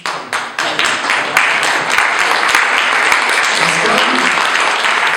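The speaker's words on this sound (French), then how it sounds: "Vous pourrez applaudir tous." Church congregation breaks into applause, first a few scattered sharp claps, then building into sustained loud clapping from many people, with a voice briefly audible underneath.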